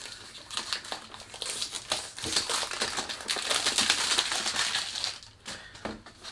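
Rustling, crinkling packaging and cardboard handling while unboxing a Ted Lapidus Intenso box, with dense crackling bursts and scrapes close up, continuous and irregular, no talking.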